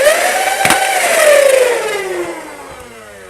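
A Worker Dominator Triple Stage foam dart blaster with 2S-optimized flywheel motors fires once: a loud, close motor whine with a sharp crack of the shot, then the motors wind down in a falling whir.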